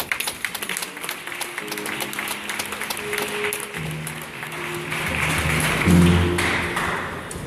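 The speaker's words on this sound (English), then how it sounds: "So a round of applause for each of you" Audience applause at an award gala, a steady wash of many hands clapping that swells slightly toward the end, with tonal background music notes sounding underneath.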